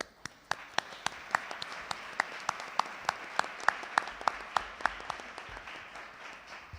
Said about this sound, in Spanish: realmente un aplauso por ello